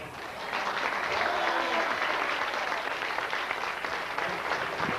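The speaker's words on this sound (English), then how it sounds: "Help me give a round of applause to Mr." An audience applauds for speaker Roland Johnson at a talk, with a dense, steady wash of clapping from a full room that holds evenly for several seconds.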